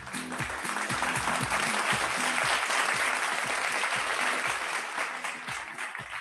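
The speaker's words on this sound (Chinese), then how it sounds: "我以为你要给大家掌声一下" Steady audience applause at a seminar, a continuous dense wash of clapping held at an even level throughout, with a faint low rhythmic thump of background music beneath and little talk.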